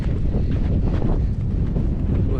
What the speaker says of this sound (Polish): Wiatr dalej wieje.